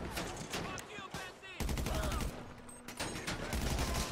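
Rifle gunfire in GTA V Online, in rapid close bursts of shots with brief pauses between volleys, with game noise and a voice speaking at times.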